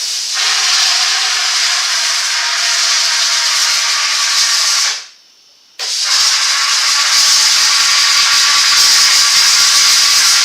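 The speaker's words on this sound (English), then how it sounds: "And then I'm going to steam this," A steamer hisses loudly and steadily as it steams a 3D printed model to clean it. The jet cuts out for about a second midway, then resumes just as strongly.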